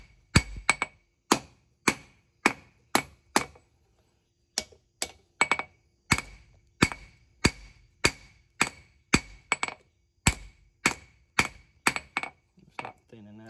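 Hammer blows ring out while forging a mountain man knife blade, sharp metallic strikes in bursts of several evenly spaced hits with short pauses between, loud and close.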